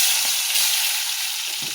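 Tomatoes frying in a little hot oil left over from frying luchi, a steady close sizzle with faint stirring bumps, no voices.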